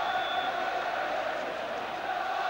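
A football crowd at a Liverpool match in 1989/90 makes a steady, distant, broad roar that stays at an even level throughout, with no single claps standing out.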